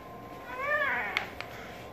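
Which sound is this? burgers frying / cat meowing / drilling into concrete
cat meowing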